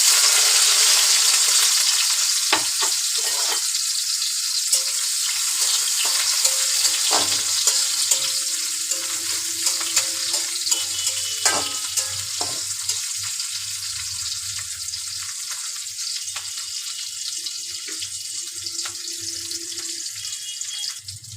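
Green chilies, onion, crushed garlic cloves and a bay leaf frying in a pan for a mixed vegetable dish, a steady close sizzle running throughout with occasional clinks and stirring sounds and no talk.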